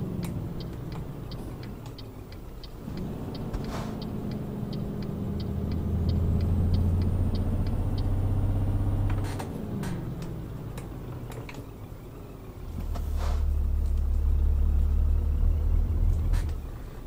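Scania truck with a Scania trailer driving in Euro Truck Simulator 2 near the Scania test centre, its low engine rumble swelling and easing as it accelerates, with a steady ticking indicator clicking alongside and no talk.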